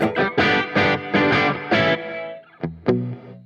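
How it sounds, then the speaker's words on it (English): Gated reverb from a DigiTech XP400 Reverberator, a 1990s rack unit, applied to loud distorted guitar chords. The chords hit in a rhythmic series, each reverb tail cut off abruptly, then two sharp stabs ring out. "kind of cool, actually, as an effect, that gated reverb."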